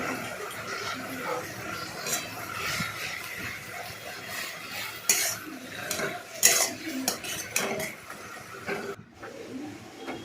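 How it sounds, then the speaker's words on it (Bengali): A utensil stirs turmeric into jute-leaf dal in a pot, with repeated scraping and clinking strokes against the metal, close and fairly quiet, ending in a brief silence. "দিয়ে ভালো করে নাড়াচাড়া করলাম"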